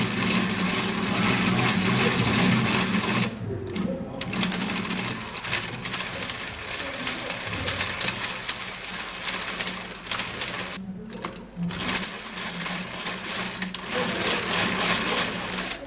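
A hand mixer beating toothpaste, a buzzing motor whir with rapid rattling and clicking that runs steadily, stops briefly twice, then resumes, close up with no talk.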